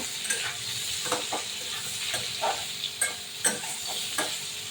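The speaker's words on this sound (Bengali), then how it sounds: "আপনারাও কিন্তু এবার একটু তেলে ভেজে নেবেন" Taro and potatoes frying in oil in a small wok, with a steady sizzle and the repeated scrape and clatter of stirring, close up and with no talking.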